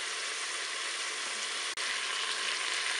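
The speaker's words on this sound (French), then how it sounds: "Je vais continuer encore un petit peu le mode doré." Chicken thighs and potatoes sizzle steadily in a Cookeo multicooker on its browning setting, a constant close frying hiss broken by one brief click partway through.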